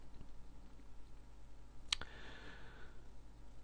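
A single computer mouse click rings out crisp and close against a quiet, faintly humming room, and nobody speaks.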